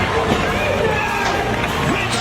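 A CrossFit crowd cheers loudly as Rich Froning enters, a steady wash of shouting and whooping with a commentator talking over it.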